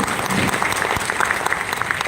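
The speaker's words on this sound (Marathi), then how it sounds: "टाळ्या वाजवा एकदा" An audience at a Marathi poetry recital breaks into loud, dense applause, a steady wash of many hands clapping close by.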